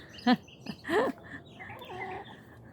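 Several chickens cluck close by in short, scattered bursts, with a few higher calls mixed into the quiet background.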